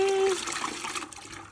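Water pours and splashes into a 5-gallon bucket, a short gushing burst that fades into a trickle, close and moderately loud.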